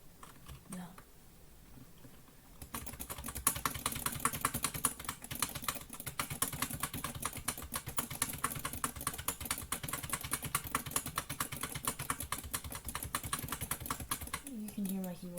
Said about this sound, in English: You can hear my keyboard is going crazy.